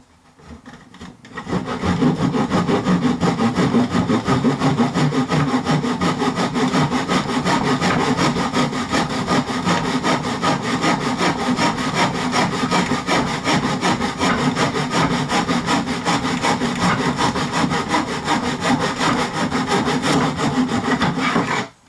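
Steady back-and-forth strokes of a hand saw cutting through a piece of wood for a tackle box, rasping continuously and close up for about twenty seconds.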